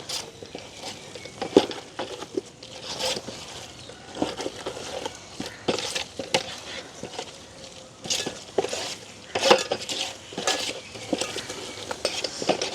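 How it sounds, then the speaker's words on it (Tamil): Crushed garlic and ginger stirred into a biryani pot in a village kitchen, with irregular metallic scrapes, clinks and wet squishing taps of a spoon against the pot, close and moderately loud with no talking. "நாங்கள் உள்ளியும் இஞ்சியும் போட்டுக்கொள்வோம் இதை வந்து எல்லாத்தையும் கலந்து விடுவோம்"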